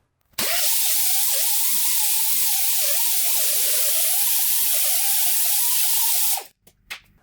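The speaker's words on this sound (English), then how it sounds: "Now I can sand everything smooth." Sanding welded steel joints on a rolling stool frame with 80 grit, a steady loud power-tool whine and rasp that wavers in pitch, running continuously for about six seconds, then stopping with a few brief clicks.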